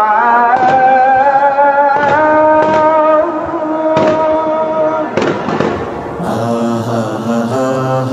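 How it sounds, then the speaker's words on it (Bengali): Gunfire sound effects give about five sharp, irregularly spaced bangs over a loud, sustained sung call, and music with fuller instrumentation enters near the end. "আজানের সুরে গুলির শব্দ মিলে মিশে একাকার"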